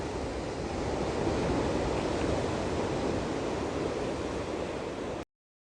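Ocean waves breaking on the beach at Playa de Arnao in Castrillón, Asturias, a steady near wash of surf roaring without pause, with no voices heard.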